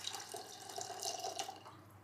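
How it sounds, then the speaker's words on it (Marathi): Water is poured into an electric kettle, a brief, quiet trickle with light splashing and dripping. "याच्यामध्ये आपण पाणी ओतून घेतोय"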